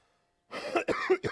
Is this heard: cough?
yes